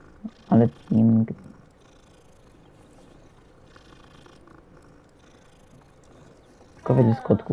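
A cat purring in the video game Hogwarts Legacy, heard as a few short, close bursts near the start and again at the end, with a quiet ambient game bed between them.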